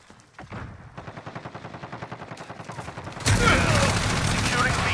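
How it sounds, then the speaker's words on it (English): An enemy precision airstrike in Call of Duty: Modern Warfare, starting as a rapid run of evenly spaced impacts. It then swells into a loud, sustained roar of blasts and debris, with a voice briefly heard early on. "Enemy precision airstrike, get down!"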